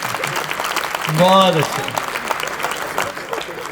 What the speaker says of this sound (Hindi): आप सबने मेरे स्वागत में जो घनघोर तालियां बजाई हैं